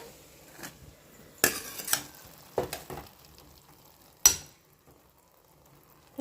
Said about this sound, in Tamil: சாதத்தை இதோடு சேர்த்து நம்ம நல்லா பிரட்டிக்கலாம்